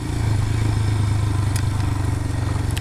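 A Royal Enfield Himalayan motorcycle's engine drones steadily at low speed on a chunky off-road trail, with faint clatter and crunch from the rough ground beneath.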